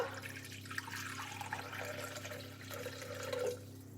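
Warm water runs steadily into a Thermomix mixing bowl for Cypriot bread dough, a continuous splashing pour with a low hum underneath, rising slightly near the end.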